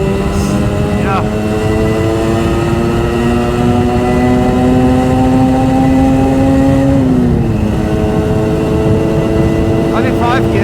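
A Suzuki GT200 X5 motorcycle engine drones loudly under throttle at speed, its pitch climbing steadily, then dropping briefly at a gear change, with constant wind rush throughout.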